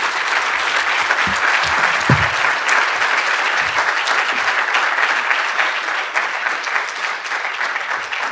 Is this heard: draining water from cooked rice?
no